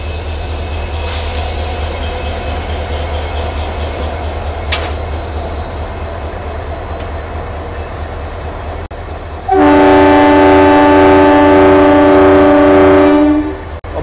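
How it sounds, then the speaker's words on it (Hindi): A WDP4 diesel locomotive sits near its train for coupling amid steady station rumble, then sounds one long, loud, sustained horn blast lasting several seconds before it cuts off. "WDP4 लोकोमोटिव आ गया अपनी ट्रेन में कपल होने के लिए।"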